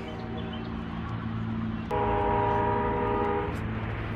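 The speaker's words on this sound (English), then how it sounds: "There's a train coming if you couldn't tell." A train rumbles steadily while its horn sounds, first a lower tone, then a louder, brighter blast that holds for over a second before fading.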